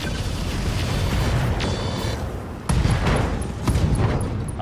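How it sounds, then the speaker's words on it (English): Ammo exploding in a mech combat video game bursts through a dense, rumbling wash of gunfire and blasts, with sharp booms punching out near the middle and again toward the end. "Ammo explosion, side torso down."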